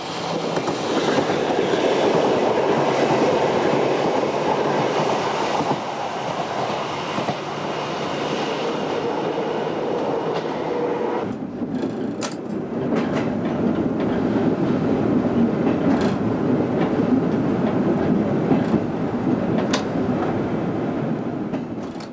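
A Berlin S-Bahn class 480 electric train runs with a loud, steady rolling roar and rhythmic wheel clatter over rail joints, occasional sharper squeals and clicks, continuous and close throughout with no voices.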